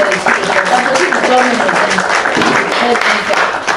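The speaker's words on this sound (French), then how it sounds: "Est-ce qu'on peut applaudir une fois de plus pour Eugène?" A crowd at a youth program claps together, a fairly loud, sustained round of applause with a voice speaking over it.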